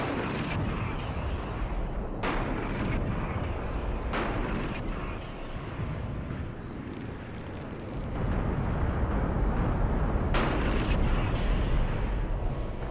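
Artillery fire and exploding, cooking-off vehicles in a wargame battle between Iranian and Iraqi forces, with repeated heavy booms and blasts over a continuous rumbling din of distant combat.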